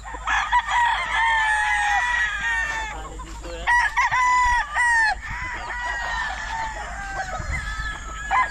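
Chickens and chicks on a poultry farm fill the air with close, loud clucking and squawking calls, overlapping almost continuously with a few brief pauses.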